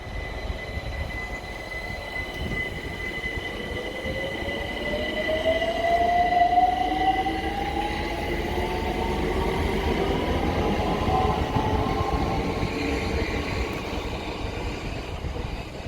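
Train 378-216 passes through Kensington Olympia station, a loud, sustained rumble of wheels on rails with rising and falling squeals and a whining motor tone, close by and steady for the whole stretch.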